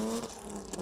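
A BMW E90 drift car fitted with a WTCC body kit revs hard during a drift qualifying run in Indonesia, a brief, close, rising engine note with a steady harmonic whine.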